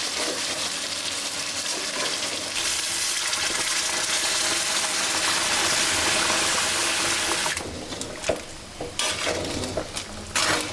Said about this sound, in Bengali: তারপর আমরা সিদ্ধর জন্য গরম পানি দিয়ে দেবো